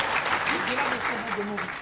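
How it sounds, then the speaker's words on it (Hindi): Clapping from the audience at a devotional television program's gathering comes as a brief, busy patter, with a voice talking over it throughout. "सुशीला माता के लिए जोरदार तालियां हो जाए।"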